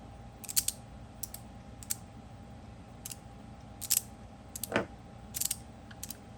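A 3D-printed magnetic fidget toy with strong magnets snaps and clicks in sharp, scattered bursts, close and crisp, with quiet gaps between the pops.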